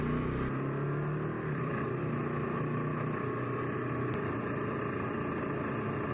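A Harley-Davidson Sportster S with a 1250cc engine is ridden on a commute. A steady, droning engine note blends with constant wind rush, heard continuously from the rider's position with no talking.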